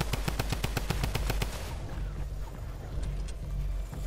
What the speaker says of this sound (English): This drum gun lasers builds as well. I forgot how good this gun was.